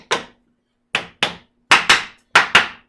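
Seven sharp metallic taps from a small hammer driving a wedge into a milling table, some spaced apart and others in quick pairs, each one close and crisp with a short ring.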